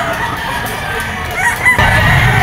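Young gamecocks crow at a busy outdoor pet market amid a dense hubbub of background noise, with one loud crow rising toward the end.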